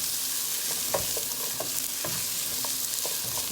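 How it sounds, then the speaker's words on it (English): A medium red onion sweating in a pot, a soft, steady sizzle with a few light stirring clinks and scrapes, close but fairly quiet, no voices. "We have a medium red onion. We're gonna sweat this down a little bit"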